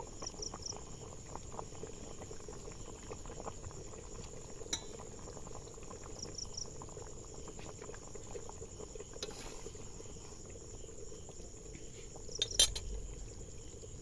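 Fish curry broth boiling in a pot, a steady, faint, dense bubbling patter with a constant high hum over it and a couple of small clinks.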